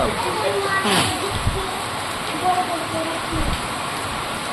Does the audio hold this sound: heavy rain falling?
yes